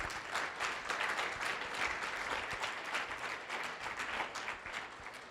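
Church congregation applauding the Lord during a Spanish-language service with a guest speaker, dense steady clapping from many hands filling the room for several seconds, loud and continuous with a slight fade at the end.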